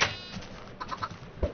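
Chickens on a farm in the video game Minecraft give a few soft, brief clucks, scattered and fairly faint, with no talking.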